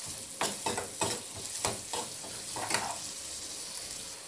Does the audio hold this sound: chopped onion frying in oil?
yes